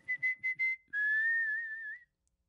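Four short whistled notes in quick succession, then one long sustained whistle that wavers slightly in pitch before stopping, clear and close.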